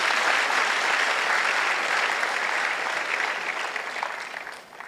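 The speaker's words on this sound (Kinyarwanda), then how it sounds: "Mwongere dukomere Imana amashyi." A church congregation applauding in praise of God, dense sustained clapping from a full room that holds steady, then thins and fades toward the end.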